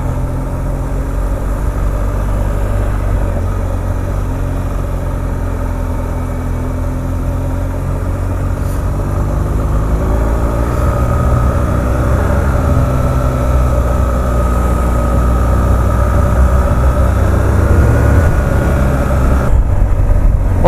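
A BMW GS motorcycle cruises on country roads with a steady engine drone and shifting harmonics as revs rise and fall, continuous and close throughout with wind noise.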